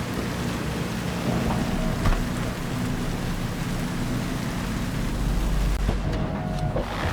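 Steady rain falls in the video game Cyberpunk 2077, a dense, continuous hiss over a low rumbling bed that stays even throughout, with no voices.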